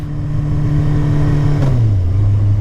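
Car engine under load held at about 5000 rpm, a loud, steady close-up whine that dips slightly in pitch near the end, with no talk over it.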